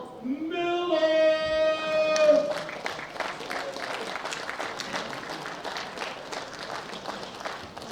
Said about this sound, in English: A big round of applause now for Daniel Miller.